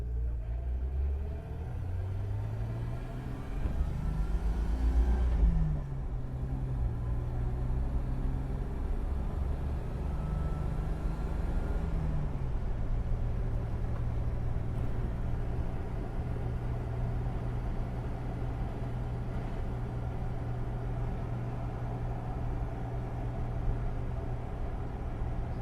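A 2003 Jeep Wrangler Rubicon TJ with 90K miles driving in second gear, a steady low engine drone with a brief rise in revs early on, then settling into an even rumble, heard from inside the vehicle.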